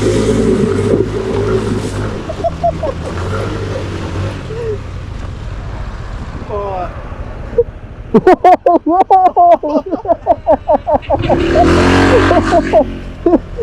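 A motorcycle engine revs and labors unevenly, joined by excited shouting and a burst of rapid chattering sounds partway through.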